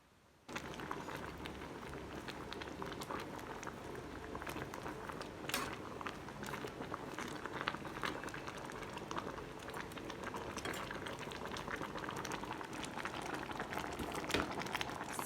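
Curry bubbling in a red suki pot, a continuous dense simmering and popping of boiling liquid close by, starting abruptly after a brief quiet moment and carrying on steadily with no talking.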